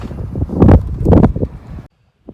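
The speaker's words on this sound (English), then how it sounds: "The wind is picking up in this corner." Wind rushes over a sailing boat during an evening race, a loud, rough buffeting that swells twice, then cuts off abruptly to near silence at the end.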